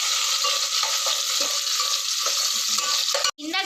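Onions and chopped tomatoes fry in hot oil for chicken biryani, a loud, steady sizzle with occasional stirring scrapes and clinks close by, no voices.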